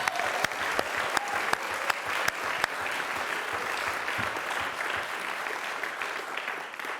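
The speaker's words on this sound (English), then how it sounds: "Now you can clap." Steady applause from a crowd at a Thousand Oaks, California city council meeting fills the whole stretch, dense clapping with a few sharper claps standing out, slowly tapering at the end.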